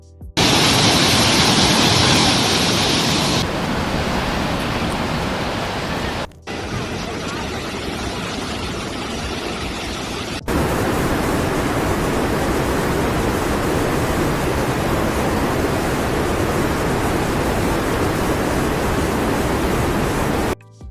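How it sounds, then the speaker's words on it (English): Floodwater roars through Beijing's city streets and ring roads after torrential rain, a loud, dense, continuous rush heard in several abruptly cut segments. "The sudden, overwhelming rainfall turned Beijing's multi-lane ring roads into raging canals."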